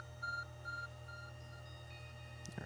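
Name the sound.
phone beeping in video game Pokémon Legends: Arceus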